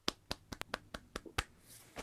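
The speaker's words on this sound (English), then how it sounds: "if we want to give our performers one more round of applause" A small handful of people clapping for a college jazz combo at a spring virtual concert, sparse and uneven individual claps, close and fairly quiet, about a dozen in two seconds.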